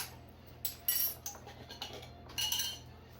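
A metal spoon taps and clinks against a pot or jar while cinnamon and turmeric go into a lamb tagine curry. Bright, irregular clinks come in quick little clusters over a faint steady hum, close and fairly quiet.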